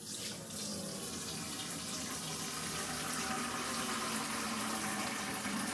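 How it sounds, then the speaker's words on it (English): Hot homemade vegetable stock pouring through two stacked strainers into a big stock pot, a steady, continuous rush of liquid close by that keeps an even level throughout. "So we have it double strained in 2 strainers."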